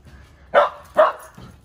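A Shetland sheepdog gives two sharp, close barks about half a second apart, followed by a softer third yip, loud and with no talk over them.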